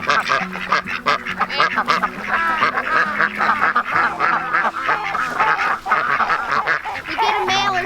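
A crowd of Welsh Harlequin ducks quacks loudly and continuously nearby, a dense overlapping chorus of honking calls with no talk over it.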